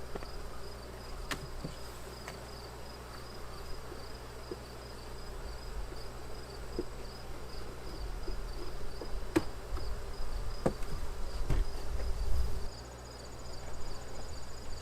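Bees buzzing around an open beehive outdoors, a continuous insect drone with occasional louder passes near the listener and scattered light knocks, no speech.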